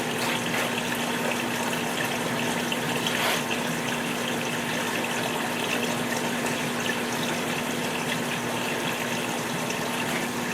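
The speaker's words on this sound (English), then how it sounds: "Just a quick splash to make sure that plug's properly covered, and back into the tank with that they go." Steady splashing and trickling water from a reef aquarium tank as coral frag plugs go back in, a continuous moderate wash of flowing water with a low pump-like hum underneath, no talking.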